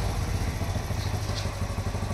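A motorcycle engine idles and putters steadily nearby, a low continuous throb with light clattering.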